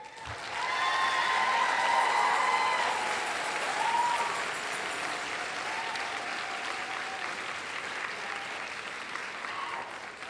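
Sustained applause from a large seated audience at a North Idaho College commencement ceremony, swelling quickly and then holding steady before slowly thinning, with a few faint whistles over the clapping.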